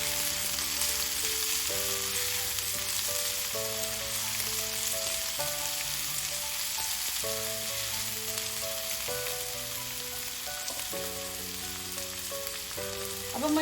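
Onions frying with garlic-ginger paste in a pan give a steady, dense sizzle, with stirring scrapes throughout, while tonal music plays underneath.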